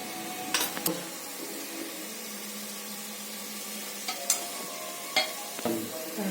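A spoonful of chilli powder stirred into chicken masala sizzling in a pan, a soft steady fry under intermittent sharp scrapes and clinks of a spoon against the vessel.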